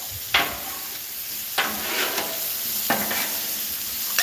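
Meat sears in a hot pan, a constant close sizzle punctuated by three sharp spitting pops spaced about a second apart, with no talking.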